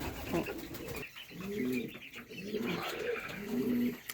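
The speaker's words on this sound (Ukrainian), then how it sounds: "вечірня годівля голубів. Ось так. Голуби вечерять." Pigeons coo during evening feeding in repeated low, throaty phrases, several birds close by with overlapping rolling calls and no speech.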